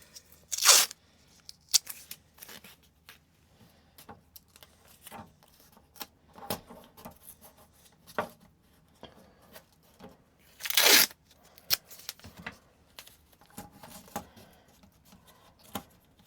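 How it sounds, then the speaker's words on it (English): Adhesive tape is pulled and torn off the roll, giving two loud ripping bursts, one near the start and one later, between quieter scattered crinkles and taps nearby. "I'm going to get some tape"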